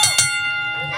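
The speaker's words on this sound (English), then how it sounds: "Referee calls for the bell." A wrestling match bell rings out clearly at a prison break match, a bright metallic strike near the start with a second hit shortly after, ringing over crowd noise and commentary.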